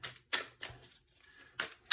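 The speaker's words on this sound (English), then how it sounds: "I'm going to shuffle the tarot cards on camera" An old manga-style tarot deck is shuffled by hand, giving short papery riffling bursts in an uneven rhythm with brief quiet gaps, close and fairly crisp.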